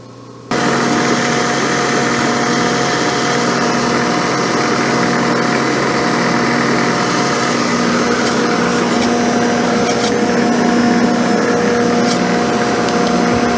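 Milling machine cutting a cast camel back straight edge, a loud steady mechanical drone with tonal whine that starts abruptly and holds evenly, a few faint ticks later on.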